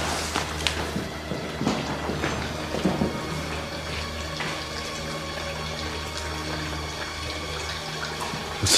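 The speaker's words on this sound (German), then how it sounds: "Der Wasserhahn im Bad." Water runs steadily from a bathroom tap, a continuous broadband hiss with a low hum underneath and a few faint knocks, heard alone without voices.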